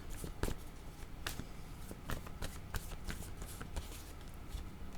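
Tarot cards are shuffled and drawn with quick papery riffles and soft slaps in irregular bursts, close and quiet, with no talk over them.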